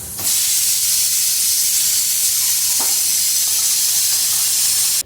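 Food dropped into hot oil in a home kitchen sets off a loud, steady hissing sizzle that begins abruptly and holds strong throughout, with no one speaking.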